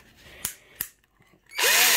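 A Patriot BR 181 Li cordless drill-driver runs at its drilling speed, first giving two short clicking bursts, then spinning up into a loud, steady high-pitched whine that holds to the end.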